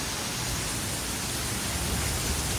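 Heavy rain pouring over the town of Anjar, a dense, unbroken roar of hiss that stays even and close for the whole short stretch, with no voices.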